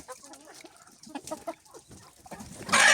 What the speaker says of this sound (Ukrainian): У нас дуже багато курей.